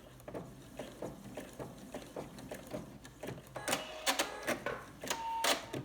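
A sewing machine ties off stitches on the binding of a quilted braided table runner, giving a close, rhythmic run of mechanical stitching pulses that turns into a few faster, brighter bursts.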